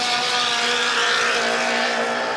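A loud, steady high-revving one-litre engine roar from a vintage racing boat, continuous and close, with a buzzing drone and no pauses.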